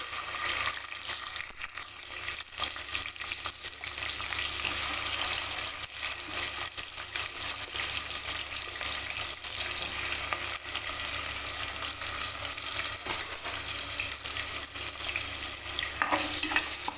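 Onions sautéing with whole spices such as bay leaf, cardamom and cinnamon for biryani, a dense, even sizzle with soft stirring scrapes throughout, close and constant, no voices.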